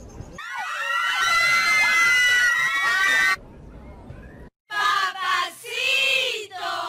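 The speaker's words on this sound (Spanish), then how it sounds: "Se escuchan gritos." Excited crowd screaming from an anime, loud high-pitched shrieks from many voices in a sustained burst, a brief gap, then further rising screams.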